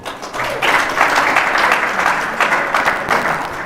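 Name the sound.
audience applause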